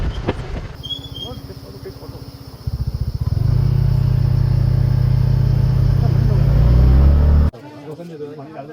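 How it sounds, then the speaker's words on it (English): A car climbs uphill in Mussoorie, its engine a low, steady rumble that jumps sharply louder partway through, holds for several seconds, then drops away abruptly, with voices in the car. "We are driving uphill."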